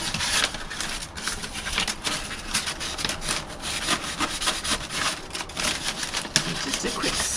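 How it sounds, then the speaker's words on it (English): Sandpaper is worked by hand along the painted edges of an Austin Allegro's steel bonnet, making quick repeated scratchy strokes up close in a steady back-and-forth rhythm. "you don't want to sand the edges down too much"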